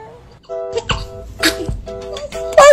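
A baby sneezes, one short sharp burst amid soft babyish vocal sounds and adult murmuring, close and fairly loud.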